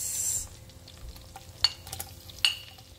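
Garlic and onion sizzling in melted butter in a pan for fish adobo, a soft steady hiss with a few sharp clicks of a utensil stirring against the pan.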